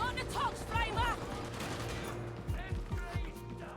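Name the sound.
gunshots in a video game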